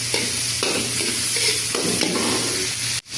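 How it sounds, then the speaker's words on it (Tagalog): Sliced onions sautéing in a pan for chicken asado, a bright steady sizzle with occasional stirring scrapes, close and fairly loud, ending with an abrupt brief drop. "Nulog ko na po yung sibuyas natin guys."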